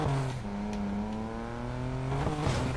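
Aston Martin DB5 engine driven hard as a race car, a loud steady drone that dips briefly then climbs in pitch as it revs, with a sharp gear change near the end.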